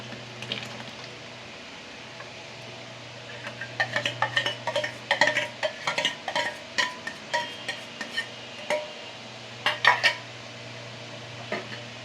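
Jaggery soaked in milk is stirred into payesh in a rice cooker, a metal spoon clinking and scraping irregularly against the pot over a low steady hum, with clusters of close taps in the middle and near the end.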